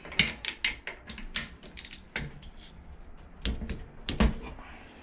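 A ratchet torque wrench tightens a bolt on a Predator 212 engine, giving quick bursts of sharp mechanical clicks that come in several irregular runs, close and fairly crisp.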